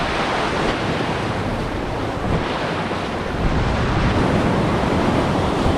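Sea waves washing onto a beach beside a backwater near Chennai, a steady loud broadband roar of surf mixed with wind buffeting the microphone, continuous throughout with no voices.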